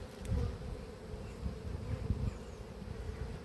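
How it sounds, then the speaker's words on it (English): A dense swarm of honeybees buzzing steadily all around a beekeeper at an apiary hive, close and constant, with a low rumbling background. "it's the older bees that tend to hassle you"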